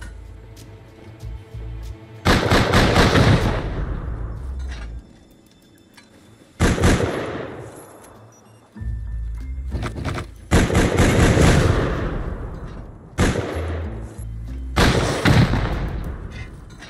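Heavy explosive-ammo gunfire in Console Rust, heard as several loud, booming bursts of rapid shots, each trailing off into a rumbling decay and separated by quieter gaps.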